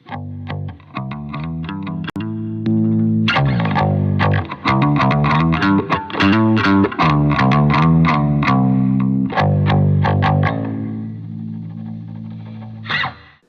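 A distorted, effects-laden bass guitar plays a busy riff of punchy plucked notes, loud and continuous, with a brief pause near the start.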